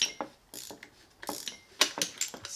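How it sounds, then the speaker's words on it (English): Wrench ratcheting on a front strut nut of a Volvo S60R, a series of sharp metallic clicks in short irregular bursts, close and clear with no talk. "I should probably also be able to just take my wrench and just tighten it."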